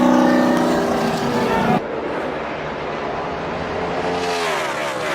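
Roaring NASCAR engines in a big multi-car wreck, loud and dense, one sharp cutoff partway through, then a continuing engine roar and rumble.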